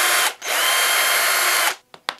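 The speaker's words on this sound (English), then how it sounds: "Let's go ahead and drill the hole for the belly hook." A power drill bores a hole for a belly hook in a handmade wooden pilchard trolling lure, giving one loud, sustained high whine of about a second and a half, then two brief bursts as the trigger is tapped.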